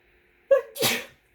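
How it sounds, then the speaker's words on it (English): A single close sneeze, a sharp intake followed by a loud explosive burst, with quiet before and after. "Oh, excuse me, I have to sneeze."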